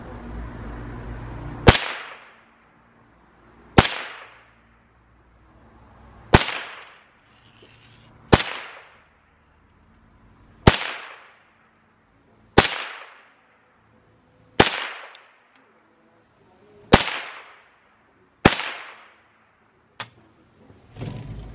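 Gunshots fired one at a time into a pumpkin to carve it, about ten sharp loud cracks at a slow irregular pace, each dying away into a short echo, with nobody talking.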